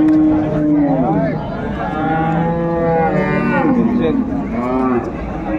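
A cow at a cattle market in Dinajpur moos repeatedly, several drawn-out calls close to the microphone, with livestock market noise in the background.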